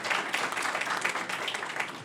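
An audience at an outdoor painters' forum in the Adirondacks claps in steady applause, a dense wash of many hands lasting a couple of seconds with no speech over it.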